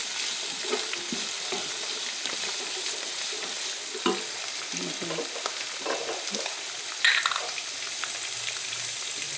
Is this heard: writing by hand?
no